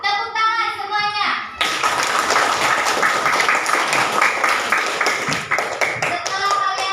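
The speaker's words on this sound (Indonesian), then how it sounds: "Tepuk tangan semuanya." A classroom group of children claps together after group discussion results are read out, a dense burst of hand claps starting abruptly after brief talk and continuing steadily near and loud, with scattered sharper individual claps.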